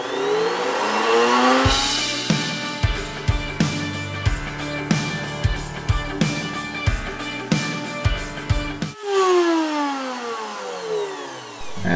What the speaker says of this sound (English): I wanted to add a chamfer to this one, so it doesn't look so much like a block of wood.